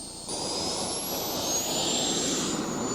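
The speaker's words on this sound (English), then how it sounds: "the high thrust line combined with the sheer power of this jet engine" Jet engine of a jet-powered RC model of the battleship Yamato roars loud and close, a steady high-pitched turbine whine with broadband rushing thrust that swells slightly as it runs, no talk.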